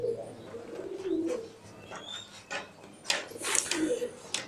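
Soft pigeon coos rise and fall among faint chirps and rustling in an enclosed pigeon loft, with a person speaking quietly in the background.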